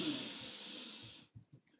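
A deep energizing inhale during a guided breathing exercise, a long soft airy hiss of breath lasting over a second, close and quiet, followed by a few faint low thumps.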